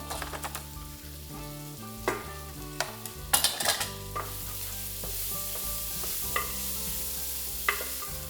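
Garlic sizzles in a pan for cabbage soup, a soft steady fry with sharp clinks and scrapes of stirring scattered throughout, quiet and close.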